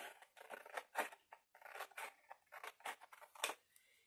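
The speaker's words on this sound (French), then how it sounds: "Donc, je ne vais pas m'embêter, hein, je vais découper tout droit." Close, crisp snips of scissors cutting scrapbook paper straight down, a steady run of rasping cuts in short bursts with small gaps between them.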